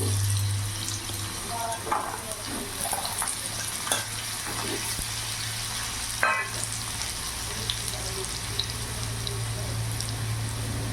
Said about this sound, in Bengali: তেল গরম হয়ে গেছে এবার আলুগুলো আমি দিয়ে দেবো